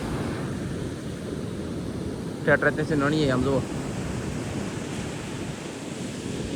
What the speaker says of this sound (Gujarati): આમ જુઓ તમને દરિયાનો અવાજ આવે